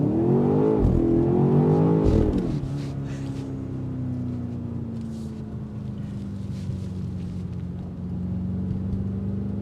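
A 2025 BMW X5 M Competition with its S68 engine revs hard under acceleration, a loud, steady engine drone that climbs, dips briefly, then settles into a sustained cruising hum with wind noise.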